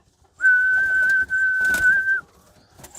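A long, steady, high whistle held for nearly two seconds with one brief break, sounded loud and close to call pigeons to feeding, followed by a little faint rustling.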